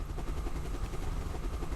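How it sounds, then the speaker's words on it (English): Rotor chop of a helicopter target on the World of Guns RPG-7 shooting range, a steady pulsing whir filling the whole stretch at low level with no voices over it. "Ah, there's another crappy helicopter."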